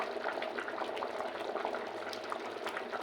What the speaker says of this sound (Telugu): రైస్ మంచిగా ఉడుకుతుంది